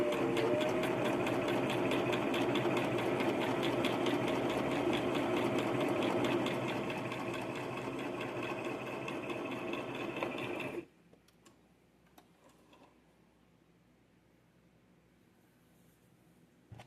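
A sewing machine stitching a seam runs with a fast, even mechanical rattle for about eleven seconds, then stops, leaving a quiet room.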